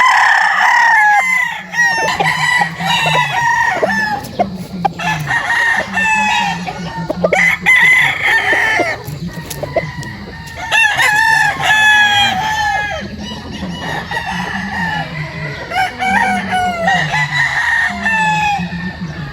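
Several gamefowl roosters crow repeatedly, one call after another, near and loud on a farm, with clucking between the crows and someone talking underneath.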